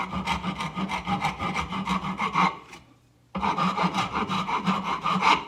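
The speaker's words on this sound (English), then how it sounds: "the rasp seems to be what it wants to do." A rasp files down a rattan sword in quick, rhythmic rough strokes, close and clear, with a short pause midway before the scraping resumes.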